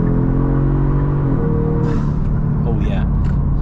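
Engine of a tuned 2023 Genesis G70 with an engine tune and 500 torque accelerating on the road, a steady loud rumble with rising tone under cabin noise, and someone talking over it.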